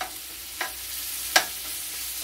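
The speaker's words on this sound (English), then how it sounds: "So I got the onion sauteed in there, the olive oil." Onion sautéing in olive oil in a pan gives a soft, steady sizzle, with a couple of brief utensil clicks or clinks partway through.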